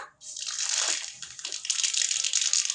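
Spices such as mustard seeds, panch phoron, dried red chillies and whole cumin sizzle as they hit hot mustard oil in a kadai. A loud, steady crackling hiss starts abruptly and continues throughout, with no talk.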